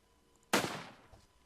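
A single sharp gunshot in a cowboy video game, a loud sudden crack with a short decaying tail, heard alone against a quiet background.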